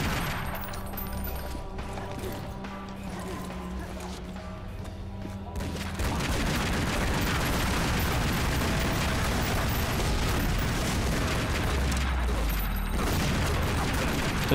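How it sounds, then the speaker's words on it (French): Machine gun fire in the Tomb Raider Legend action game comes as a dense, sustained rattling barrage that grows louder and more continuous after about six seconds, with booming impacts mixed in and no talk. "Ça, c'était une mitrailleuse, j'avais même pas calculé."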